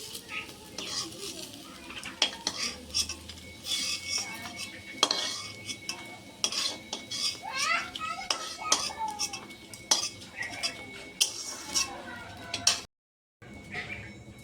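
Fried masoor dal fritters are lifted out of a pan of oil, with repeated metal scoops and clinks against the pan over a low sizzle and some talking, ending in a brief silence.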